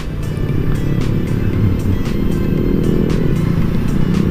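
An RC200 sports motorcycle riding alongside in city traffic, its engine a loud, steady drone close by, mixed with road and wind noise and a rhythmic ticking pattern throughout.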